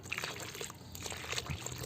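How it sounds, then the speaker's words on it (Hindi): Water poured slowly down the side of a bucket onto sprouted makhana seeds sitting in mud, a continuous close splashing and trickling with no speech. "तो फिर मैं धीरे धीरे साइड से पानी डालती रहूँगी ताकि इनके जो स्प्राउट हैं वो डैमेज ना हो"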